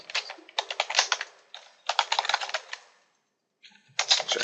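Someone types a username and password on a computer keyboard, close and clear in quick bursts of key clicks with short pauses and a brief silence before a final burst.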